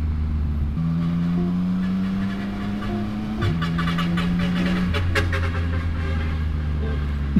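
A truck engine drones steadily on a road at night, its pitch shifting as it changes gear and rolls past, with a rattling noise in the middle.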